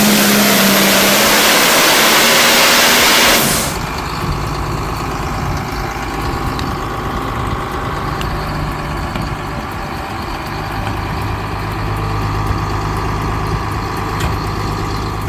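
A John Deere Pro Stock pulling tractor's heavy engine roars loudly at first, then settles into a steady, rumbling drone that runs on evenly without pause.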